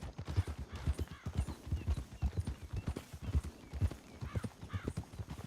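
Horse hooves clip-clopping at a steady walking rhythm in Red Dead Redemption 2, close and distinct, with an occasional faint whinny.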